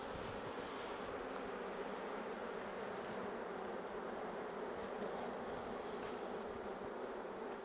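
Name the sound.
bees around beehive frames in Cuba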